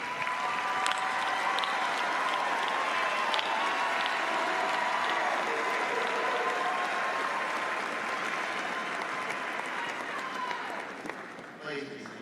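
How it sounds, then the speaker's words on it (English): At a university summer commencement, the crowd applauds and cheers for graduates' families and friends, a broad sustained roar of clapping with voices and a faint tone underneath, fading near the end. "join me in a round of applause to thank them for unwavering support"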